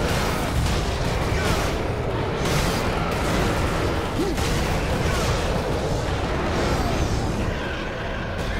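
Rapid gunfire from weapons shooting at demons in the Warhammer 40k Space Marine video game, a dense, loud barrage of repeated shots and booms that runs without a break.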